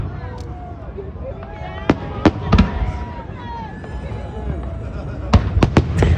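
New Year's fireworks bursting over New Orleans, with several sharp booming cracks in clusters over a dense crackling and crowd-noise background, with people talking nearby.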